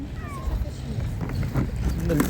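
A cat meows a few times during a session trapping feral cats, drawn-out mewing calls heard close and mixed with a person talking over them.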